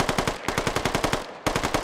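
Rapid automatic gunfire in a military video game chatters in steady, evenly spaced bursts, loud and close, with a brief pause before the firing resumes.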